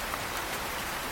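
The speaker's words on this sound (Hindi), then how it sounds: "बच्चे खिड़की से बारिश देख रहे थे।" Steady rain falls continuously in a cartoon scene, a dense, even hiss of drops on surfaces at moderate loudness, with no voices over it.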